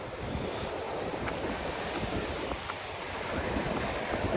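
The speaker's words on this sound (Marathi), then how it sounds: "पूर्ण समुद्र भरलेला आहे." Sea waves wash in steadily at a beach near Pariwadi during high tide, a continuous broad roar of surf mixed with gusting wind noise on the microphone.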